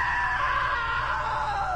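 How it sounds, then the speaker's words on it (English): A sustained scream from a character in the video game What Remains of Edith Finch, loud and continuous with a slowly falling pitch, over a low steady rumble. "Now that was a great scream."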